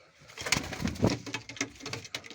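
Pigeons coo softly nearby, low throaty murmurs mixed with light fluttering and shuffling.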